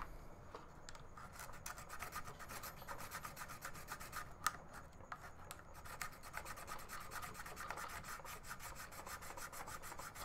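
A Raspberry Pi Nintendo cartridge is being ground down by hand with a steady, close, rhythmic rasping scrape, fairly quiet, with one sharper click midway.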